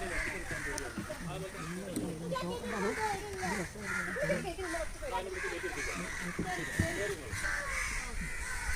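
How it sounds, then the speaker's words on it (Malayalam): Crows caw repeatedly nearby while people talk over them, with the harsh calls overlapping the voices throughout. "പിന്നെ ഞങ്ങൾ കാക്കയുടെ സൗണ്ടും കേട്ട് ഞങ്ങൾ യാത്രയായി"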